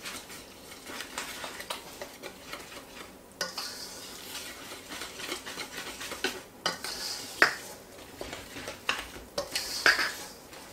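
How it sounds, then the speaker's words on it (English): Whisking a batter of milk and vegetable oil in a bowl for apple fritters, soft continuous swishing with intermittent sharper clicks of the whisk against the bowl, close and fairly quiet. "And now I'm going to whisk all of that together."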